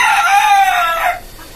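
A rooster crows once, loud and close, from a caged chicken farm on the roof of a five-storey house; the call holds steady and then cuts off.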